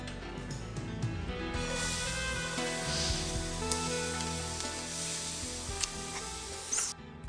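Chopped onions sizzle and hiss steadily in a hot pan of oil, a loud, continuous frying crackle lasting throughout with occasional stirring clinks and no talking.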